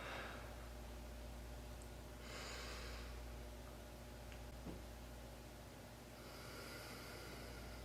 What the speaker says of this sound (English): Here's an example of diaphragmatic breathing